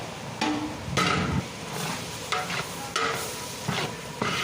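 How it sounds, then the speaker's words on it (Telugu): Chopped tomatoes hit hot tempering oil for a mixed vegetable sabji of capsicum, raw banana and bottle gourd, giving a steady sizzle broken by repeated bursts of stirring and scraping, close and moderately loud, with no voices. "ఇలా ముందుగా కట్ చేసి పెట్టుకున్న టమాటాలని అయితే యాడ్ చేసుకోవాలి"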